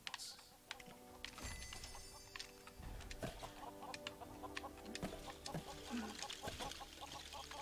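Chicken clucking inside the Lego Worlds video game, several short clucks scattered through a busy mix of game sounds and clicking, moderately loud throughout.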